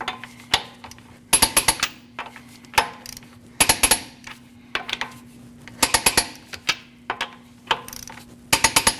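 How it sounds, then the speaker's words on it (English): Lug nuts on a 2014-2023 Jeep Cherokee wheel torqued in a crisscross pattern, heard as loud, close bursts of rapid ratchet clicking repeated in groups with short pauses, and no talking. "We're going to torque these at 100 foot-pounds in a crisscross manner."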